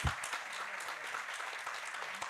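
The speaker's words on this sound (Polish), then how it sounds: "i też wielkie oklaski" Applause at a festival closing ceremony, a steady dense wash of many hands clapping together, continuous and fairly distant throughout.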